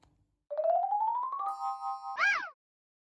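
A synthetic notification bell chime: a rising tone that settles into a steady ring, then a short bright double ding at the end, loud and alone against silence.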